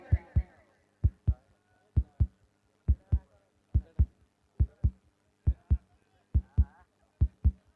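Heartbeat sound effect played during commentary at a local cricket match, a steady run of paired low thumps repeating about every three-quarters of a second, loud and alone with no talk over it.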